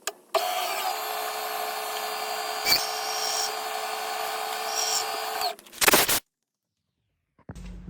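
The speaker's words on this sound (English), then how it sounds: "Now that we've got the holes drilled in the soft steel" A drill bores holes through a soft steel knife blank for a Damascus ulu, a continuous whining hum for several seconds with a couple of brief clicks, then a sharp burst as it stops and falls silent.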